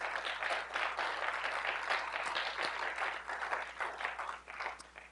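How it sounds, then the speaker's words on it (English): An audience applauds outstanding student entrepreneurs at an awards gathering, a warm, continuous wash of clapping, moderately loud and filling the room, easing slightly toward the end. "give you a real round of applause"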